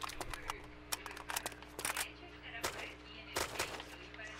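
Gunfire in the military shooter game Arma II: Operation Arrowhead, a scatter of sharp shots and short bursts at varying distances, some close and loud, others faint, with talk mixed in.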